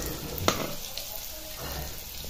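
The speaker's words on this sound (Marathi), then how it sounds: "असं बाजूला करून घ्यायच्यात त्या झालेल्या मिरच्या आणि तिथे नवीन मिरच्या घालायच्या." Green chillies frying in hot oil in a home kitchen, a steady, close sizzle with a brief clatter as the chillies are turned and moved aside, and no talking.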